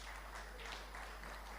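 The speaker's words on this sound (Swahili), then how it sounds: "Tumpigie makofi." Faint, steady clapping from an audience at a FEMATA mining federation signing ceremony, a continuous patter of many hands held at low level throughout.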